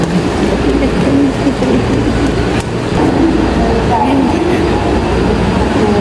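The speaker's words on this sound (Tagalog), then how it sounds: "Dito na ako sa train." Moving train heard from inside the carriage: a loud, steady rumble of wheels and car noise fills the whole stretch, with faint squeals and a person talking now and then.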